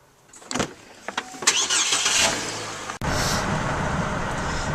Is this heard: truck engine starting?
yes